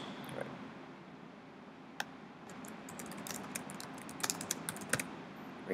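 Fingers typing on a computer keyboard, a quiet scattered series of light clicking keystrokes that grows busier toward the end, close by and alone over faint room noise.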